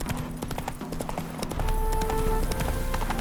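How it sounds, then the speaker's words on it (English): Rhythmic clip-clop of horse hooves in The Witcher 3 video game, steady and close over a dense background of game sound and tones, with the hoofbeats repeating throughout. "Spooking my horse. Roach doesn't like ghosts."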